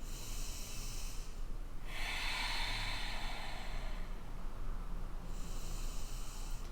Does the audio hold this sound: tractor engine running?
no